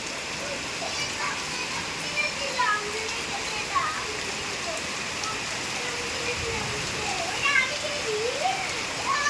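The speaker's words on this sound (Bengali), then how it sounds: "বৃষ্টিটা হচ্ছে খুব ভালো লাগছে" Daytime rain falls steadily as an even, close hiss, with faint voices and a few chirping calls rising through it.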